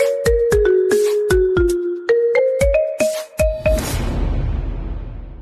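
A melodic phone ringtone for an incoming call in a Kannada TV serial, with a run of bright, distinct notes ringing out clearly for several seconds before a burst of noise takes over.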